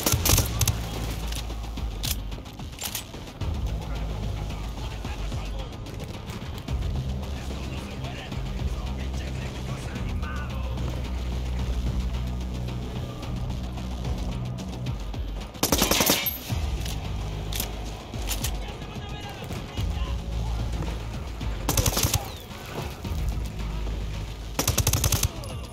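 Sustained automatic weapon fire in a Ghost Recon Wildlands firefight, with a near-continuous rattle of machine gun bursts throughout and louder sharp volleys cutting in near the end, a voice shouting over the shooting.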